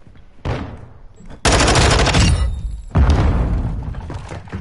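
Sniper gunfire in an online shooter video game: a few loud, sharp reports with crackling tails, the heaviest bursts arriving in two close, forceful waves.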